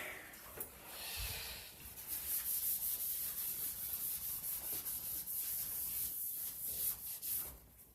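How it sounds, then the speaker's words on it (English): An angle grinder polishes a tile surface, producing a continuous, close, gritty rubbing and abrasive hiss that holds a steady level for several seconds. "90 degrees angle grinder, 9-angle grinder"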